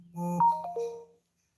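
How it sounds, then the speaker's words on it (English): A phone notification chime plays a short, clear melody of a few bright descending tones, lasting about a second and heard alone before fading into silence. "should probably turn my notifications off. You guys might be able to hear that."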